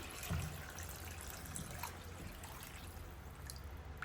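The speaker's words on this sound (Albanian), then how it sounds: "Dhe në fund ja shtojna ujin" Water is poured into a pot of Albanian veal stew (jahni), giving a soft, continuous trickling and splashing that stays faint and steady throughout.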